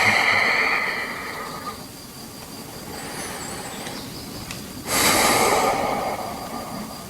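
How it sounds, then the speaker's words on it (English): Deep, steady breathing during a floor yoga pose, with long airy inhales and exhales rolling in and out at close range and a louder breath near the end, no talking. "Keep the breath rolling."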